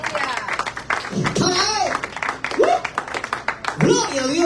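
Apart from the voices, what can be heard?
applause from church congregation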